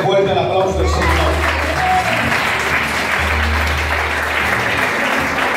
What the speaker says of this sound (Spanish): Dale fuerte el aplauso del Señor